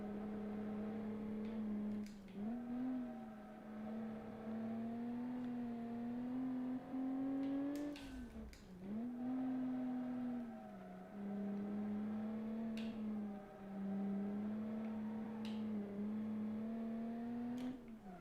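A 1967 race car engine in BeamNG revving hard and holding a steady high drone, dipping briefly at each quick upshift before climbing again, loud and continuous with no talk.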